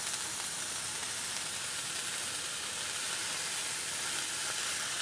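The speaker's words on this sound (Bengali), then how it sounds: "আমি এটা করলা শুদ্ধ ভাজবো পেঁয়াজটাকে" Sliced onions frying with bitter gourd in a pan give off a constant, dense sizzle that stays even and close throughout, with no talking.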